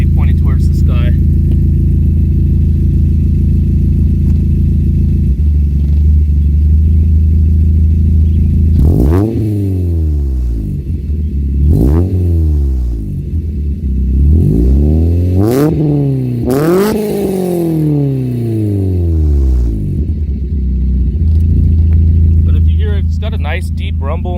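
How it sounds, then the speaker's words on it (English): A 1999 Mazda Miata engine idles with a deep exhaust rumble, then revs up sharply several times in quick succession, each rise and fall clearly audible, before settling back to idle; loud and close, heard from outside the car. "Nice deep rumble, not too raspy, no more raspier than any other exhaust that I've heard."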